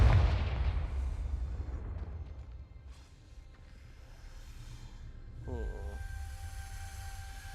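A fiery Confringo blasting spell explodes in the video game Hogwarts Legacy, hitting as a loud, close burst at the start. It fades into a long rumbling tail, and a few bright tonal game effects ring out near the end.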